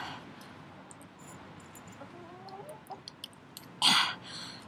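Chickens cluck softly at close range with a few short clicks and scratches, then a louder brief squawk near the end, over a quiet outdoor background.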